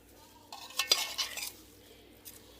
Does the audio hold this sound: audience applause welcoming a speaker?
no